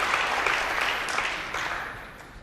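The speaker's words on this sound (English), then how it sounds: "Stand by for a huge cheer for Neil Robertson." A snooker crowd at the 2019 Welsh Open applauds Neil Robertson's 147 maximum break with a dense, sustained wash of clapping and cheering that tapers slightly toward the end.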